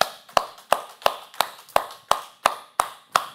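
A church audience at a youth-hosted Bible lecture in Incheon claps together in a steady count, ten sharp synchronized claps evenly spaced, loud and close, with no voices over them.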